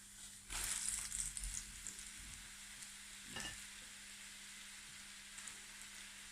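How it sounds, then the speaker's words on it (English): Flour-coated okra drops into hot oil and sizzles, a brief burst of loud crackling frying with stirring, then a quieter steady hiss over a faint background hum. "now we're going to put our okra in the hot oil"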